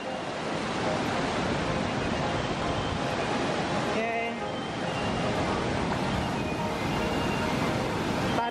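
Split waterfall Air Terjun Belah at Lubuk Linggau, a steady broadband roar of falling water filling the whole clip up close, with someone briefly speaking over it midway.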